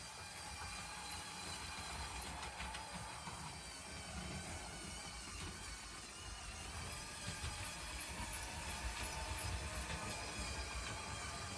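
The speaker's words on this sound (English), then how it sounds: "here is another shot of the train going by" A LEGO City model train rolls past on a tabletop layout, giving a steady small rail rumble with faint clickety-clack that holds at even loudness throughout.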